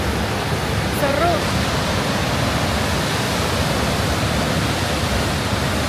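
Steady, dense roar of Victoria Falls (Mosi-oa-Tunya) on the Zambian side, a continuous broadband wash of falling water that stays loud and unchanging throughout, with no talk over it.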